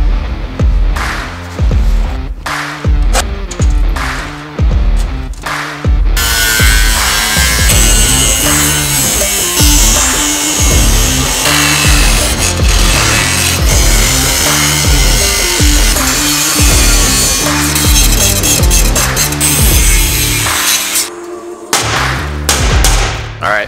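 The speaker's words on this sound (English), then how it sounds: "So what I'm going to do is try to grind all this out and hopefully reuse it." An angle grinder works rusted metal on a Jeep CJ5 body panel, giving loud, close bursts of grinding that start and stop in short runs before settling into one long continuous stretch, with no speech.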